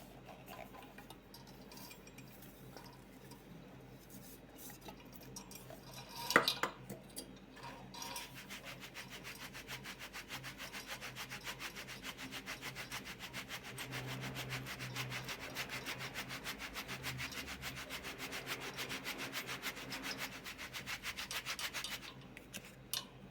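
Soft, steady rubbing and scraping of ground flour being worked through a fine sieve continues quietly and grows slightly denser toward the end.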